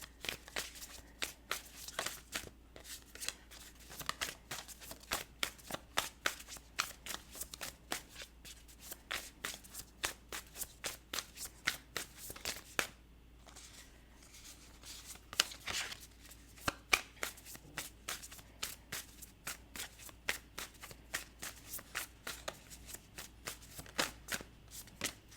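Oracle and tarot cards are shuffled by hand in repeated quick riffling bursts, crisp and close, with short pauses between runs and no talk.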